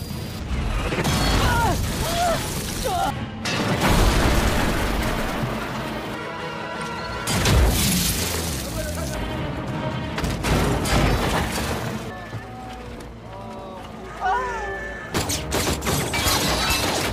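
Action-film battle from Operation Red Sea: relentless gunfire rains down from a clifftop onto troops, with rattling bursts, heavy booms and shattering crashes, loud and chaotic, with voices now and then.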